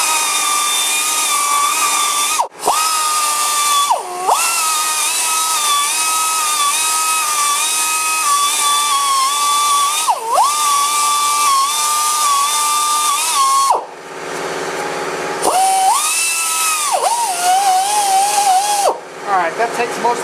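A pneumatic belt sander sanding foam whines loudly at a steady high pitch, dipping briefly several times as it loads against the workpiece, with a short pause near the end before it spins up again.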